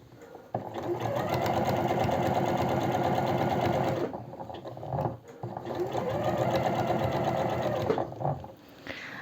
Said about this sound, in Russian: И вот строчите возле самой кромочки.